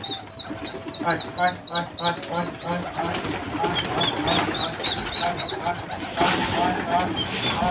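Pigeons coo repeatedly in a loft where chickens and turkey chicks move among them, a steady layered chorus of close calls with a person talking over it throughout.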